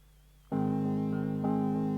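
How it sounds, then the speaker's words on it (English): After a brief near-silence, a Wurlitzer electric piano chord played through an Ibanez CF7 pedal comes in and holds, its tone wavering with a warbling vibrato and swelling slightly toward the end. "That is a Wurlitzer going into a Ibanez CF7 pedal, which I use a lot."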